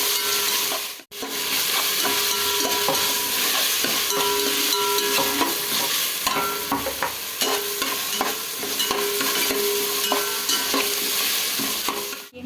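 Green chillies slit lengthwise and ginger garlic paste sauté in a hot pan of oil for a chicken dish, a steady close sizzle with scraping stirs over it and one brief drop near the start.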